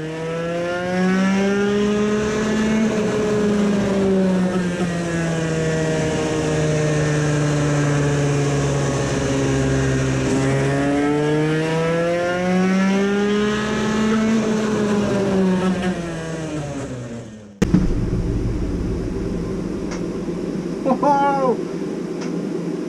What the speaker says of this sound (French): on va faire le premier tir ensemble du moteur une fois préparé